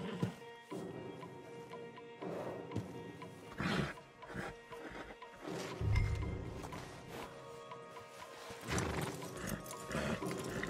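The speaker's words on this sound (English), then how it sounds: "Javier, you're gonna lead the stallions." Stallions in Red Dead Redemption 2 clop along on their hooves in uneven bursts, with snorts and a whinny rising now and then over a low outdoor game ambience.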